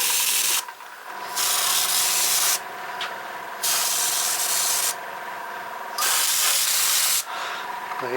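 An airbrush hisses in several bursts of spraying paint onto a 1/16 scale Panzer IV tank model, each lasting a second or more, separated by short pauses, loud and close.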